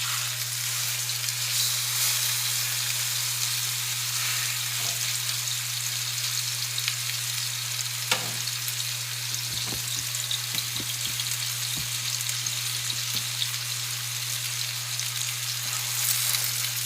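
Smothered ribeye steaks sizzle steadily on a hot plate, a constant crackling fry with occasional sharper pops and light scraping as the meat is shifted around, close and with no talking.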